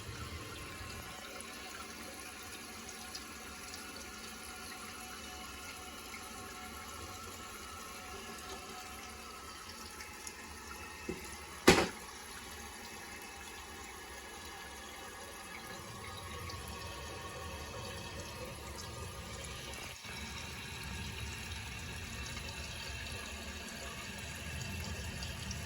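A toilet tank refills through a new Kohler fill valve, a long steady hiss of running water with a sharp clunk near the middle and a shift in tone as the flow tapers toward shutoff.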